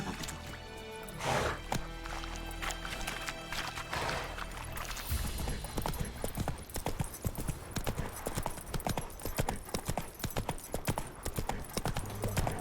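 A horse gallops in The Witcher 3: Wild Hunt, with fast, even hoofbeats clopping close and steady after a heavier burst of movement at the start.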